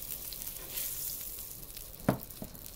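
Eggplant pieces frying in hot oil for a hilsa fish curry: a soft, continuous sizzle with one brief sharper crackle near the end, with no talking.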